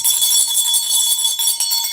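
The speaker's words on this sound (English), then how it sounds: "ring this other bell before I even read this" A bell is struck close by and rings out loud and bright, its sustained metallic tone and shimmering overtones carrying on for two seconds with no voices.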